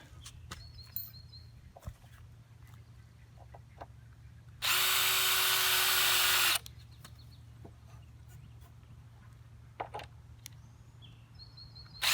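A DeWalt 20-volt cordless drill drives a screw into a floating dock in one steady whir of about two seconds, set among quiet outdoor ambience with faint birds and a few scattered clicks.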